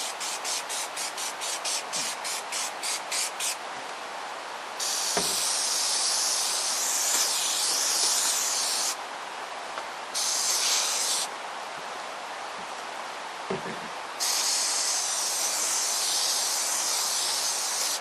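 Aerosol contact cement sprayed in a light coat for a puppet head, first as a rapid run of short bursts, then long steady hissing blasts broken by brief pauses, loud and close with no talk.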